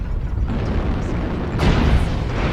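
Artillery strike explosions in the MechWarrior Online video game, a dense rumbling barrage of booms with a sharper, louder blast partway through, continuous and close with no talking.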